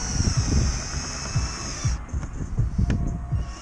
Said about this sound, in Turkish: Sadece buradaki plastiğe vida atıyoruz.